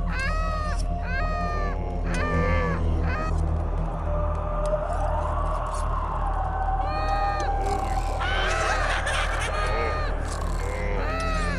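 A duck quacks loudly and repeatedly in harsh, nasal, honking calls, some short and some drawn out, over a constant low hum in the background.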